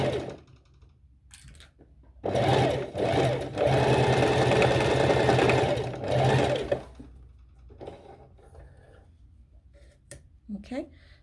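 A sewing machine stitches fabric in steady bursts, running loud for a few seconds at a time with brief pauses, while a person talks quietly before and after the stitching.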